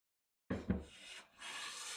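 A Veritas hand plane takes its first shaving off a wood board, one close scraping stroke with a brief knock at the start followed by a continuous rasping swish.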